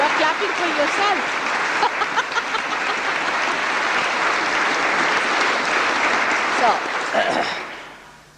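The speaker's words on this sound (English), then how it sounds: "You are clapping for yourself." Audience at a Sahaja Yoga meditation program applauding in a thick, continuous wash of clapping, with scattered voices rising through it, steady for several seconds before tapering off at the end.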